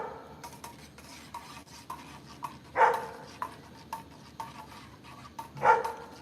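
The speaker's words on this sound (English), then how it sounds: "You can hear the dogs. They're going crazy over something. Not really sure why they're barking." Dogs bark excitedly in two short bursts at a moderate distance, over a steady background of light tapping and clinking sounds.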